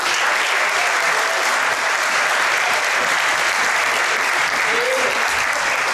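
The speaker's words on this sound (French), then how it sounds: "On peut applaudir." A ceremony audience at a book presentation on the Cameroon–Nigeria border dispute breaks into sustained applause, a dense, loud, even wash of many hands clapping throughout.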